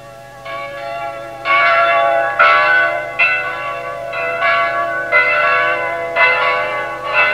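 Church bells ring in a steady, overlapping peal, each strike blooming with rich, sustained overtones over a low constant hum, with no voices.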